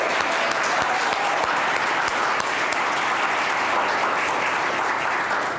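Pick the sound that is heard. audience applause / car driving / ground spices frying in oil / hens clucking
audience applause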